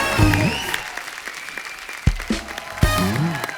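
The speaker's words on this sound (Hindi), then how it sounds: "एक बार रानी और सैफ अली खान के लिए जोरदार तालियां।" Studio audience applause on a Hindi comedy talk show stage, a loud steady wash of clapping with a few sharp peaks and brief voices and cheers mixed in.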